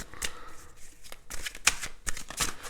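Tarot cards being shuffled for a reading, a run of soft papery riffles and taps over about three seconds, close and fairly quiet with no talking.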